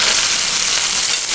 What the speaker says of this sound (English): So we're going to go ahead and put those in. We'll let them start sizzling.